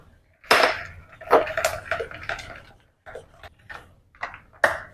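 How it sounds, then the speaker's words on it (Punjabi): Puffed fox nuts (makhana) tumble into a bowl for a yogurt dish, a series of close, bright clinks and rattles in uneven bursts against a quiet kitchen background. "ਫੂਲ ਮਖਾਣੇ ਪਾ ਕੇ ਇਹਨੂੰ ਰੱਖ ਦੇਣਾ"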